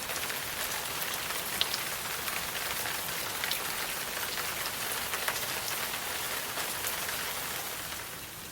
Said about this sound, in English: If you can hear that noise in the background, that is the rain.